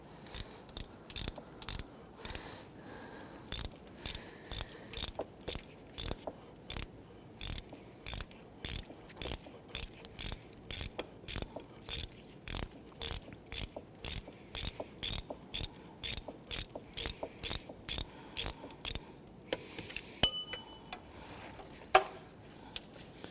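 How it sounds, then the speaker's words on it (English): Hand ratchet with a 14mm socket loosening the idler pulley bolt on a 1992-1996 Toyota Camry 2.2L four-cylinder during a water pump replacement. Rapid, evenly spaced clicks, close and crisp, with a couple of metallic knocks near the end. "Using a 14mm socket to remove the bolt for that idler pulley."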